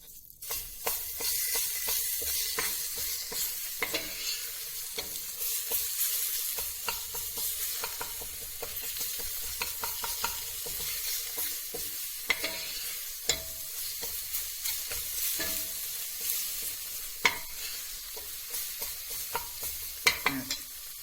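Tomato paste frying in a pot for Konya arabaşı soup, a soft steady sizzle with intermittent spoon clinks and scrapes against the pot as it is stirred.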